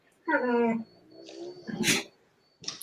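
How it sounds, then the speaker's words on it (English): High-pitched yelping whines from a young dog, a sustained cry followed by shorter yips, loud and close, with a few noisy rustles between. "They're puppies and they're loud."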